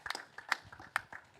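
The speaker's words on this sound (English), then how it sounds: "Clap it up for Jaron." Small audience clapping for an eliminated contestant at a live game show, a scattered handful of sharp claps, faint and sparse, with no talking.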